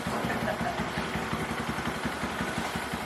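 A 2022-or-newer Honda Grom with a 149cc big bore kit runs as it is ridden, its small single-cylinder engine putting out a steady, close, pulsing drone throughout.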